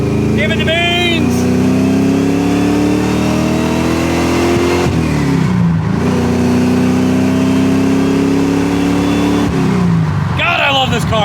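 A 1979 AMC Spirit AMX with an EFI swap accelerates hard down a straightaway, its engine roaring loud and close as it climbs through the gears with brief dips at the shifts, while someone talks over it.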